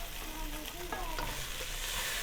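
Raw vegetables being added to chicken already cooking in a hot pan for fried rice, a dense continuous sizzle with a brief clatter and scrape of stirring, close.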